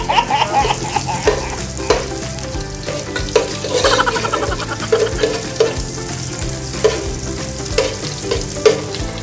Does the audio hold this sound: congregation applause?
no